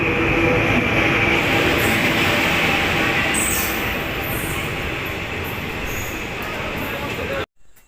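The Teesta Torsa express train rolls into a railway station, a loud, close rumble with a steady roar and high metallic hiss before it cuts off abruptly, with voices faintly underneath.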